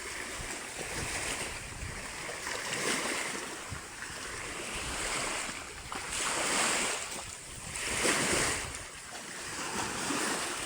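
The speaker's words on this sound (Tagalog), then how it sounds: "Tama-tama lang ang hampas ng alon mga katambay oh." Ocean waves wash onto a shore in slow, moderate surges, rising and falling every couple of seconds with steady wind noise underneath.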